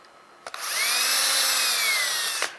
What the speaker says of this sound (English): I'm going to take my drill bit